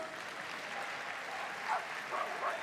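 A crowd applauds in the arena at the Crufts 2020 small team agility final, a steady, fairly distant roar of clapping that runs throughout, with a couple of faint dog barks near the end.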